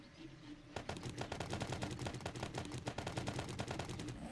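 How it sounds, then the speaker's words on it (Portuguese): Shotgun blasts in the video game 7 Days to Die, a rapid, dense string of loud gunshots that starts abruptly after a brief quiet lead-in and continues, punchy and close, with no talk. "Shotgun."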